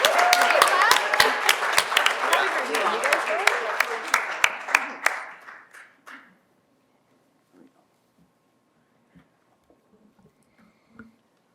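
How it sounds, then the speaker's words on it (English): A room of people claps to welcome a team at a closing session, dense applause that thins out and fades to silence, with a few faint scattered sounds afterward. "So let's all welcome them with another round of applause."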